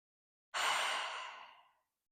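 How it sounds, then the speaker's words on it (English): A single deep breath, a soft close exhale that swells quickly and fades out over about a second, during a gentle yoga session for lower back relief. "Nice deep inhale and exhale."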